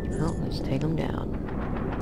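Sniper rifle fire in the Star Wars: Republic Commando video game, heavy booming shots with rumbling low end amid battle noise, and a voice speaking over the action.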